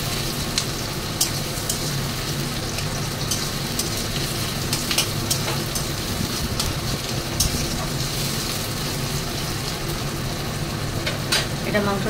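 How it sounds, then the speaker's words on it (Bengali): Oil sizzling and crackling steadily in a pan as spices fry ahead of the chicken for a biryani, a dense close hiss with occasional sharper pops and stirring scrapes throughout. "এটা মাংসের জন্য একটু হোক ভাজা ভাজা"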